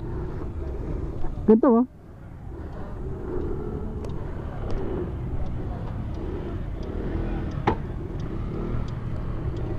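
A 2025 SYM ADX TG 400 adventure scooter ridden along, its steady engine drone and road rumble continuous throughout, with a brief squealing burst near the start and someone speaking briefly over it.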